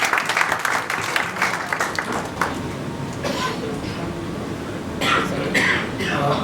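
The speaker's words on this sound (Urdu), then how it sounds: "ایک بار زوردار تالیوں سے استقبال کریں" Audience applause welcoming the chief guest, Ajay Sahaab, a GST commissioner and Urdu poet, at a poetry gathering; dense steady clapping from a crowd fills the hall, with a few coughs and bursts near the end.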